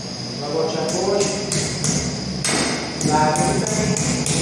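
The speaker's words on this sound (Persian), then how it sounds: "و با چکش" Hammer blows drive a butterfly wall anchor into a brick wall during indoor split air conditioner installation, a series of sharp, fairly loud knocks in irregular rhythm, with talking underneath.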